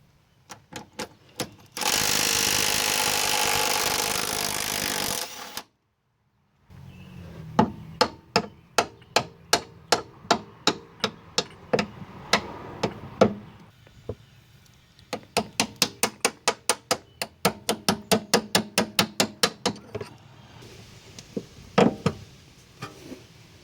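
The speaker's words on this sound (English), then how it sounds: "I must take out this control arm strut bolt" Tools working a control arm strut bolt loose on a car's MacPherson strut suspension: a steady burst of air-tool whirring, then long runs of sharp, evenly spaced metallic ratchet clicks and taps, close and fairly loud, with no talking.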